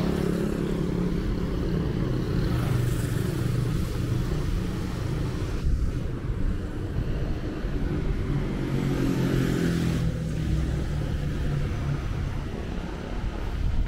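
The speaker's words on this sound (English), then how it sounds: "Traffic on this stretch of Jalan Bukit Kukus is still moderately low" Steady road traffic on Jalan Bukit Kukus in Farlim, Penang, a continuous moderate rumble of passing cars and motorcycles heard from the roadside, with engine swells rising and fading over nearly fourteen seconds.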